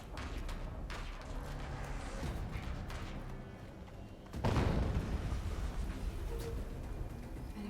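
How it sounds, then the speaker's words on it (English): An explosion in Horizon Zero Dawn Remastered comes as a sudden loud boom partway through, rising out of a rumbling game soundscape and leaving a heavier roar behind it, with no talking. "An explosion."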